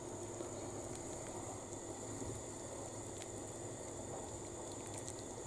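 A low, steady bubbling hiss of soup with dill in a pot heating toward a boil, quiet and continuous with no voices.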